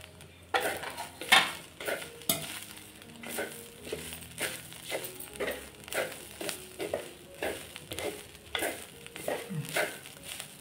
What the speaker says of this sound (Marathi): आला, लसूण आणि तमालपत्रा हा सगळा परतून घेऊया